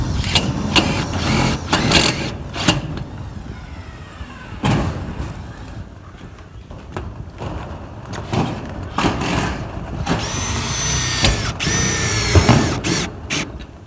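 A Milwaukee M18 Gen 3 cordless driver drives screws into metal roofing sheet, with loud, repeated whirring bursts separated by short pauses and clattering handling noise, heard close up.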